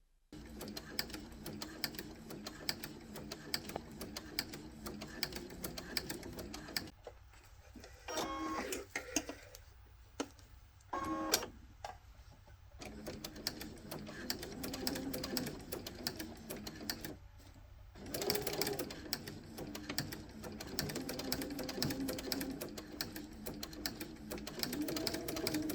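A sewing machine fitted with a walking foot stitches quilted fabric for a reversible hot pad, running in a steady close mechanical whir with brief stops and restarts along the way.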